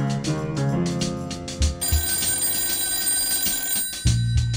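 A phone ringtone plays loudly and close, a rhythmic melodic tone pattern with repeated pulses and sustained notes, heard alone without talking.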